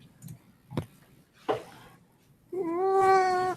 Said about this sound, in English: This is my ugly cat. It speaks a lot.